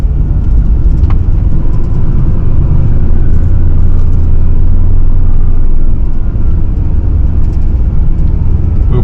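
A car drives along a road through a park in Cave Spring, Georgia, its engine and tire noise forming a loud, steady low rumble from inside the vehicle, with no talking.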